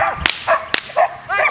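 A ten-year-old IPO3-titled protection dog from a working bloodline barks in two sharp, loud, close bursts, with softer whining yips in between.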